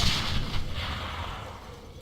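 A heavy, booming grenade blast in the Darkest of Days game, loud at the start and then fading into a rumbling low tail.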